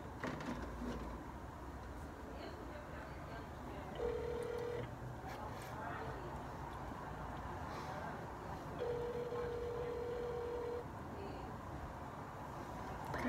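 Telephone dialing for a prank call to McDonald's: two steady dial tones sound, one short and one longer, over a noisy room with background chatter and shuffling.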